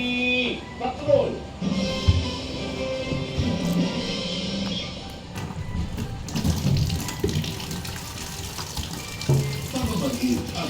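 Tap water runs and splashes into a kitchen sink while plates are washed, a continuous hiss with clinks and shifts of flow, with a television or voices talking in the background.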